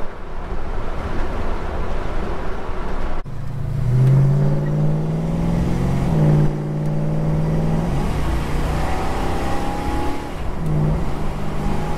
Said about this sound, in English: there was no ping in the motor when I just floored it then